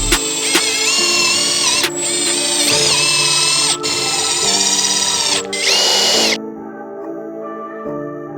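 A power driver runs self-tapping screws into an aggressive front lip on a 2022+ Hyundai Elantra N, with several loud, close whirring bursts separated by brief pauses before the sound drops to a quieter background.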